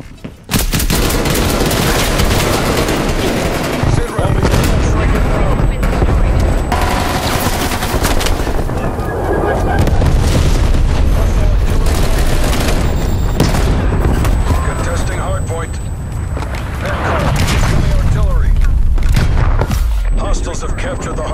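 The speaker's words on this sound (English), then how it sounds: "Missile inbound." Continuous dense video-game combat from a Call of Duty Black Ops Cold War multiplayer match, with heavy missile-strike explosions, booms and rattling gunfire layered loudly throughout, and game announcer voices mixed in.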